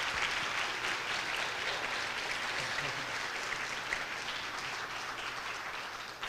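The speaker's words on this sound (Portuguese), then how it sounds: "eu queria pedir uma salva de palmas para eles" An audience at a design event in Brasília claps together in sustained, dense applause that holds steady for several seconds and eases off slightly at the end, with no speech over it.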